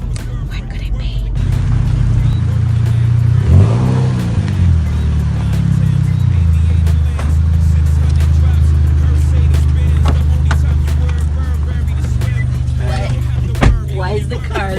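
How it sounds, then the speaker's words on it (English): Loud car engine idling and revving, a deep steady drone close by that swells and holds for the whole stretch, with people murmuring underneath. "Why is the car loud?"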